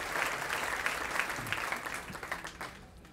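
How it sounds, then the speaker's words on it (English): Applause from the audience at a school education foundation honor luncheon, a burst of crowd clapping that is fairly faint and recorded from a distance, then slowly thins out over about three seconds. "Let's give Gourmet Gallery and Lake Air Montessori a big round of applause."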